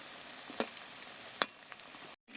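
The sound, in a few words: lentil fritters (dal bora) frying in oil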